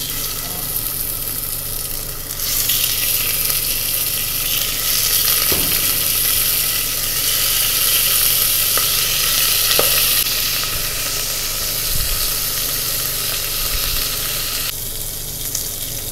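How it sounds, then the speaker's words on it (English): Steady loud sizzle of lamb browning in hot olive oil in a pot, a continuous frying hiss with a few faint clinks and stirs. "So once the oil has heated up, I'm going to brown my lamb in it."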